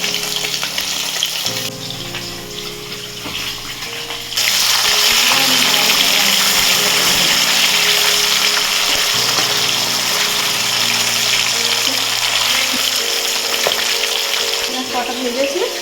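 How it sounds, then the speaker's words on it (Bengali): Washed, salt-rubbed fish pieces fry in hot oil, a loud dense sizzle that swells suddenly a few seconds in and then holds steady, with a faint low hum beneath. "মাছগুলোকে ভাজবো এবার।"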